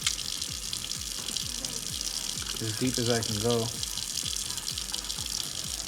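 Tap water runs steadily into a sink while a guinea pig water bottle and its nozzle are rinsed and cleaned, with a person speaking briefly over the flow.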